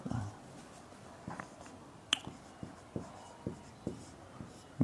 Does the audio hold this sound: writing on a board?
yes